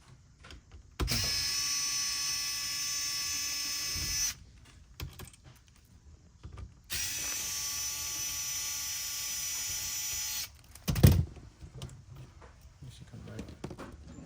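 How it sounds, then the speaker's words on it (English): A powered screwdriver backs screws out of a Xerox 78xx fuser during a rebuild, giving two sustained, close whirring runs of about three seconds each, separated by quieter handling clatter, followed by a short knock. "Next, you're going to take off 3 screws from there."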